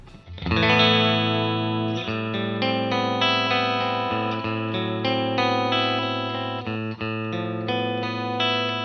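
An electric guitar plays through a clean Fender Deluxe Reverb amp with reverb, a series of sustained chords and notes ringing out one after another.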